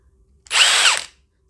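A Milwaukee mid-torque impact wrench with a sticky switch runs in one short burst, a close, loud, high-pitched motor whine that rises in pitch and then cuts off.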